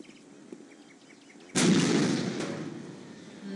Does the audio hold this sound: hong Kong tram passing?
no